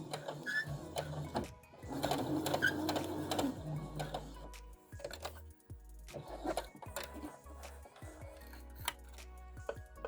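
A sewing machine stitches forwards and back in short bursts, a rapid mechanical chatter that starts and stops with quiet gaps between runs, close and fairly faint.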